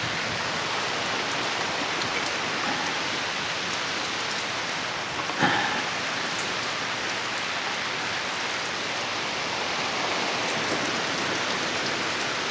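Steady rain pours down in an even, dense hiss throughout at Kamandag Beach in Ternate, Cavite, with a single brief knock partway through and no voices.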